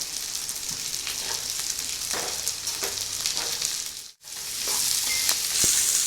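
Garlic fries in a pan for vatha kulambu with a dense, steady crackling sizzle and a few stirring scrapes. The sound drops out for a moment, then comes back slightly louder.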